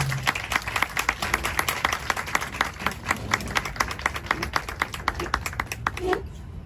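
An audience applauds to welcome speaker Darcy Buerkle at a presentation in Minneapolis, with steady, fairly close clapping that continues for several seconds before stopping abruptly.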